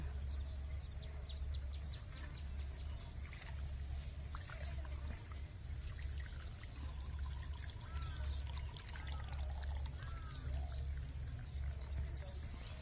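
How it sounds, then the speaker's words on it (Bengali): Water pours from a garden hose pipe onto vegetable plants outdoors, a soft continuous trickle and splash with faint birds and insects in the background. "একটু পাইপ ফেলে রেখে জল দেবো"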